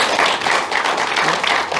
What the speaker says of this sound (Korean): 여기 감사의 박수